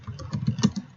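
Quick computer keyboard typing for an Excel spreadsheet task: a short run of close, soft key clicks in rapid succession over about a second.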